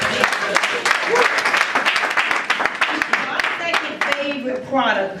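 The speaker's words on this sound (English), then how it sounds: "So y'all give them a round of applause" An audience at a weight-loss transformation party gives a round of lively applause, with sharp individual claps standing out and voices calling and talking over the clapping.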